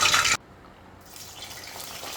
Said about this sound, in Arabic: هنجيب معلقة ونحطها تحت المية كده، ونعمل معلقة كده، سمعت الصوت ده يبقى الزيت كده سخن